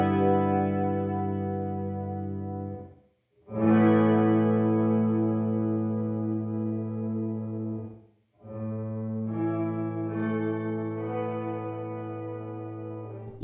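Electric guitar through a Catalinbread Softfocus pedal in Symphony mode, lush sustained chords with an added octave-up layer on top, three strummed passages separated by short gaps, loud and clear with no voices.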